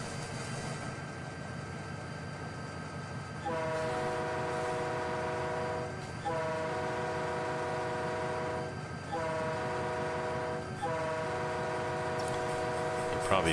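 A GP20 diesel locomotive in Train Simulator 2019 on the Donner route sounds its horn in a series of long, loud blasts over a steady engine rumble.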